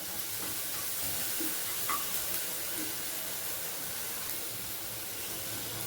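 Onions fry in a pan for vegetable pulao, making a faint, steady sizzle and hiss with a couple of soft utensil touches. The sound is low and even throughout, with no speech.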